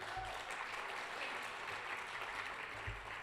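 Steady applause from a gala audience for a young performer, a continuous mid-distance wash of many hands clapping at an even level throughout, with faint low thumps underneath.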